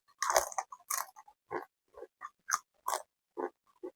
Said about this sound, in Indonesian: Rasanya campur aduk, manis gurih. Kriuknya dapat dari toge.